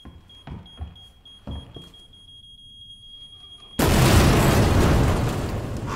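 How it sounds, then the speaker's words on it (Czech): A small explosion in Resident Evil 2 bursts in suddenly after quiet ambience and a steady tone, followed by a loud, sustained roar and rumble that slowly tapers. "Tento malý výbuch."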